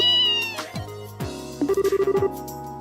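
A cat meows in the video game Trails in the Sky, a few short synthetic meows followed by a quick run of bright pulsed tones, with game music underneath.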